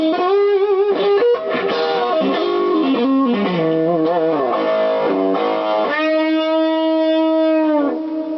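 Distorted electric guitar through a Fender Pugilist distortion pedal with reverb, playing a melodic run, then sustaining a long chord that rings out with a wash of reverb; loud and alone, no talking.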